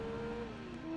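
Mazda RX-7 rotary engine racing in Gran Turismo 2, a steady high-pitched drone holding close and loud throughout, its pitch sliding slightly lower partway through, with no voices.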